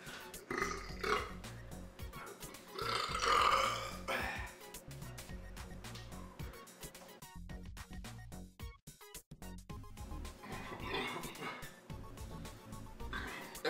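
A person burps after drinking carbonated soda, with several croaking belches close to the mic in a fairly quiet room, mixed with the person's talking.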